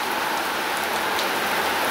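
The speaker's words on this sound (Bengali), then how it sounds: "বৃষ্টি নেমেছে আকাশ ভেঙে" Heavy rain pours steadily on a rural autumn morning in Radhakantapur, Bangladesh, a dense, even hiss with no breaks and no voices, loud and close throughout.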